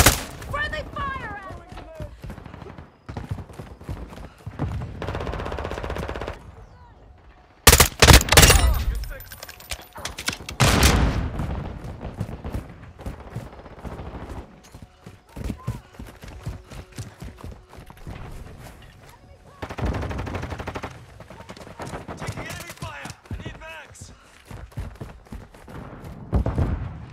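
Gunfire in the Call of Duty: Modern Warfare II video game, with bursts of shots and loud impacts scattered through a busy battle mix, under frequent in-game voice callouts.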